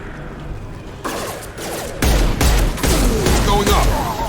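Gunfire in Mass Effect 2, building from mechanical clatter into loud, dense bursts of close automatic fire, with voices calling out over the combat.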